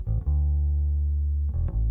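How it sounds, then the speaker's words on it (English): A clean, unprocessed bass guitar DI signal: a couple of quick plucks lead into one long sustained low note, followed by a few more short plucked notes near the end, loud and close with no talking. "Here's the bass DI completely raw as it was."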